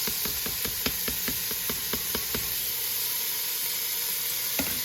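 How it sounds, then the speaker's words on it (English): Vegetables dropped into browning butter in a hot pan on a food truck set off a loud, steady sizzle, with a few quick clattering hits as they land at the start. "You want to hear some sizzle once you add it in there."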